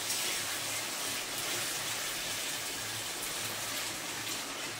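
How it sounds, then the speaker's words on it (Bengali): Water goes into an egg curry cooking in a pan, making a continuous close rushing hiss that stays steady and loud without a break. "এবারে একটু জল দেবো"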